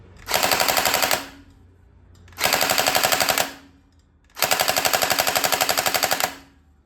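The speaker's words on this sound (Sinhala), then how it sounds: "අපි ඉස්සෙල්ලා බලමු MCX එකේ සවුන්ඩ් එක කොහොමද කියලා." An MCX toy blaster fires three sustained full-auto bursts, each about a second long, with rapid regular clatter, loud and close, separated by short pauses.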